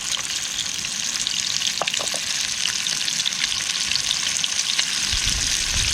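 Fish seared in hot oil for tataki, left medium rare, gives a loud, steady crackling sizzle throughout, with a few brief clicks and taps of handling and a low rumble rising at the end, no voices.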